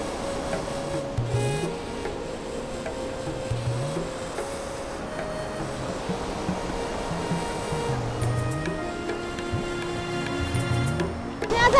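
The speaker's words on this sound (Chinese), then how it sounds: "我们走上来吊桥了，这里就在瀑布的上面。" A waterfall in Quebec rushes below a suspension bridge, a steady broad roar of falling water heard from above, with faint rhythmic creaks and clanks from the bridge running through it.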